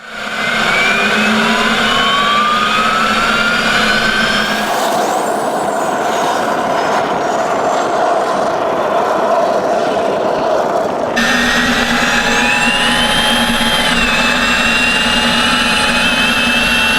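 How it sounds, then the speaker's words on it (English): Mad Max motorcycle powered by a C-20B helicopter turbine engine: a loud, continuous turbine whine with rising and falling tones that shift sharply partway through, steady and close, with no talking. "The Mad Max has the C-20B helicopter engine in it"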